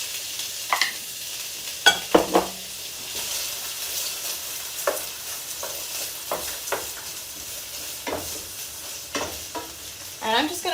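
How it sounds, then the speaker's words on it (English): Bell peppers and onions sizzle in a hot pan for a sweet potato hash, a soft constant frying hiss broken by repeated scraping clatters as the vegetables are stirred. "Oh yeah, and I hear a good sizzle already."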